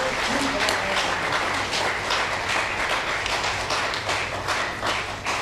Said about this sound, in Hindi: एक बार फिर से एक बार तालियां होनी चाहिए।